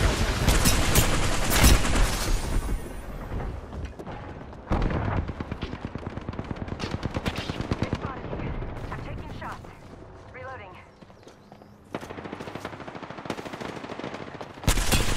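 Sustained rapid-fire L-Star energy weapon in Apex Legends, loud continuous bursts with brief pauses, mixed with game effects and some talk.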